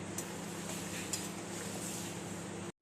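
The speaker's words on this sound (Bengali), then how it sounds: "এবার কষাবো।" Egg curry with cauliflower being sautéed and stirred in a pan, a steady low sizzle with a couple of light metallic clinks of the spoon against the pan, no talking.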